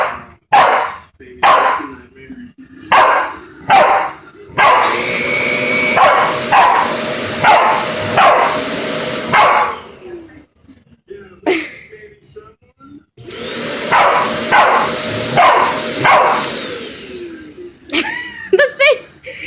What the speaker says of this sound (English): Don't stop barking!